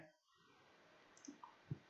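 Soft computer mouse clicks while filling in a web form for a death certificate application, a couple of faint quick taps near the end over quiet room noise.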